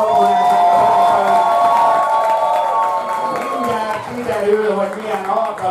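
A club crowd at a live drag show cheers and applauds for Ramóna, a loud, sustained wall of clapping and whoops with voices over it that eases off and swells again near the end.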